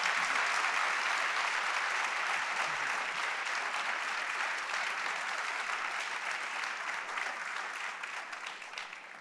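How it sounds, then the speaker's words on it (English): An audience at a book launch for David Magee's Dear William applauds the Magee family, a sustained, even wash of many hands clapping that gradually softens. "giving a healthy round of applause"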